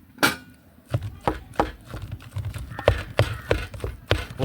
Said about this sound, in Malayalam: ജസ്റ്റ് ഒന്ന് ഉടച്ചെടുക്കാം കപ്പ